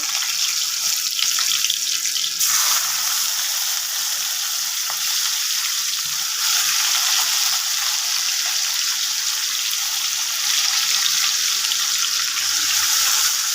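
Garlic frying in a pan for Punjabi saag gives a steady, loud broadband hiss and sizzle that runs unbroken from start to finish, with no voices over it.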